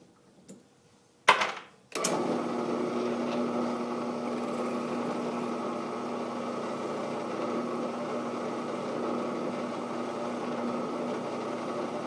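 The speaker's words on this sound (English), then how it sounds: "So I'm going to drill it with the smaller one that is the same size as the end of that reamer." A drill bores a hole for a loveless bolt during woodworking, starting with a couple of short bursts, then running at a steady, close, continuous whine for around ten seconds.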